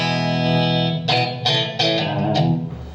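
An electric guitar played through a Blackstar ID amplifier with the phaser effect on: a sustained chord sweeps and swirls, then several strummed chords ring out in a loud, steady sequence.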